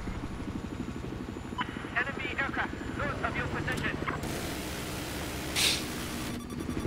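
A scout helicopter in Battlefield 4 drones with a steady rotor and engine hum on the Lancang Dam map, running continuously under gameplay noise and bursts of voice.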